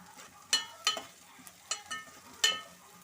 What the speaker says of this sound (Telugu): కరివేపాకు వేసి తిప్పాలండి